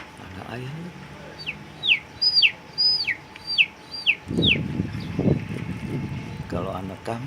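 A person imitates a baby chick with a run of high, thin downward cheeps repeated about six times, close and fairly loud, followed by a burst of crowd noise and laughter.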